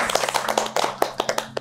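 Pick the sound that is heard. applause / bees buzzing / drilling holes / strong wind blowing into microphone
applause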